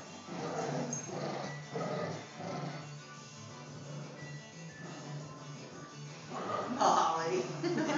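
Two dogs, Atty and Molly, tug on a toy together, with low growling and rough grunting pulls heard under a person talking close by.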